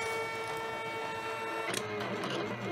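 A Silhouette Cameo cutting machine draws slowly with a Foil Quill attachment on a candle, giving a steady mechanical whir with faint tonal motor hum and a brief louder shift midway, fairly close and without talk.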